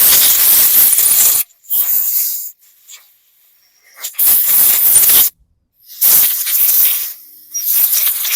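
Compressed air blasts debris off the backing plate of a 2016 Hyper Tough lawn mower in several loud, close, hissing bursts separated by near silence.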